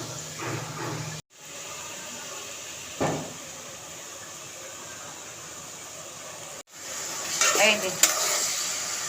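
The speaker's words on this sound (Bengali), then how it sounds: "এটা হচ্ছে পেঁয়াজগুলো এখন ভাজা শুরু করব" Onions fry in a pan on a stovetop as a first step toward a beef curry, making a continuous close sizzle broken by brief cuts, with stirring scrapes and a short spoken phrase near the start.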